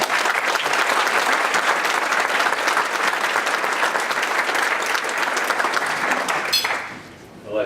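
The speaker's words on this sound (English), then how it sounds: "So he deserves a lot of applause." An audience at an awards dinner applauds in one sustained, dense burst of clapping that stays loud for several seconds, then fades out quickly near the end.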